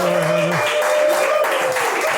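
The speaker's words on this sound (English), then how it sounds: "Big round of applause right now for Caitlin Weierhauser" Applause from a comedy festival audience for comic Caitlin Weierhauser, steady and moderately loud, with tonal music or a sustained hum over the first part and some crowd noise mixed in.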